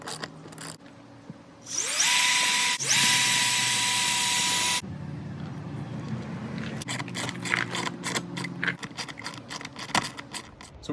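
A power drill whirs up in a sustained high-pitched run pre-drilling screw holes for a wall-mount hose reel bracket, stops, then scraping and handling noises follow with brief tool bursts.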